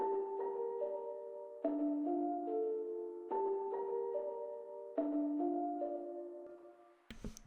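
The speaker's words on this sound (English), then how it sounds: "I then added a piano, the Noir Felt in Contact." The Noir Felt piano in Kontakt, with the All Noises On preset, plays soft muted chords in a slow repeating progression. Each chord is struck and left to ring in an intimate, hushed tone, and a brief noisy click comes at the end.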